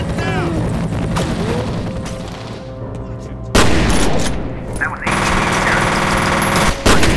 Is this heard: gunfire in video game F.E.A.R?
yes